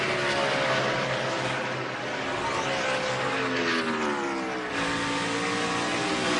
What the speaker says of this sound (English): Got about 10 cars on track making their run in qualifying